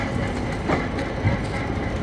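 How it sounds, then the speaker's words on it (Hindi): The Tapti Ganga Express pulls into Jaunpur Junction railway station, its coaches rumbling with a steady rolling roar and faint rhythmic wheel clatter, close by and continuous. "तो अब ट्रेन पहुंच चुकी है जौनपुर जंक्शन रेलवे स्टेशन।"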